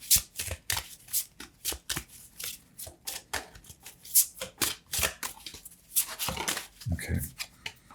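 A Dreamscape Oracle card deck is shuffled by hand in a series of crisp riffling bursts and soft slides, close and fairly quiet, with a voice talking now and then.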